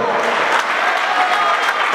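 Loud, dense audience applause at an association's anniversary celebration, after an electric guitar and vocal act, a continuous wash of many hands clapping close by.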